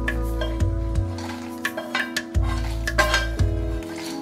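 Roasted whole spices for Goda masala tipped into a steel mixer jar, giving repeated clinks and rattles of metal against metal, with a low steady hum beneath and no talking.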